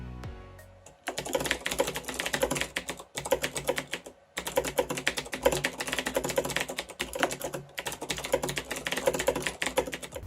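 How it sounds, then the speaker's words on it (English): Fast, sharp clicky keystrokes on a Razer BlackWidow mechanical keyboard with Cherry blue switches in bursts, separated by brief pauses, close and crisp with no voices. "I'll be showing you how a Razer Black Widow with cherry blue keys sounds."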